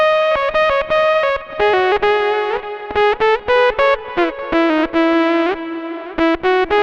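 Boss GP-10 guitar processor emulating a vintage analog Roland GR-300 guitar synthesizer, playing a loud solo with sustained, bright, harmonically rich notes in quick phrases, with some pitch bends and brief gaps, without talk.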